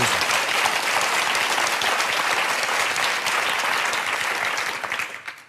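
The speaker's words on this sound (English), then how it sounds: "I think that deserves some applause" Audience at a talk on choreography breaks into loud, sustained applause, dense and even throughout, fading out in the final half second.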